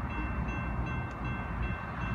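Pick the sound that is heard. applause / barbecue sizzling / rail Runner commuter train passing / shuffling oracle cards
rail Runner commuter train passing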